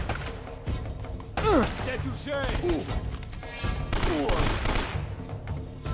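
Repeated gunfire bursts in the Uncharted video game ring out fairly loud and steady across the whole stretch, mixed with game effects and swooping tones.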